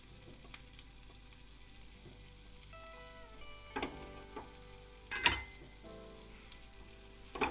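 Chicken shami kababs shallow-frying in oil in a pan give a quiet, steady sizzle, with a few soft clinks and scrapes of a utensil here and there and no talking.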